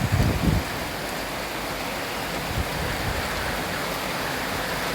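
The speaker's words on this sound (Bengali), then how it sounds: "খুবই বৃষ্টি একেবারে দেখুন গাছের পাতা কী অবস্থা" Dense, steady rainfall roars evenly throughout, with a brief low rumble at the start and no voices.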